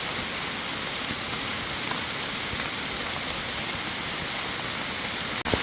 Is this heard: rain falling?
yes